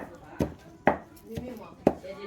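Four crisp knife chops on a cutting board, spaced about half a second apart, close by, with faint talk in the background.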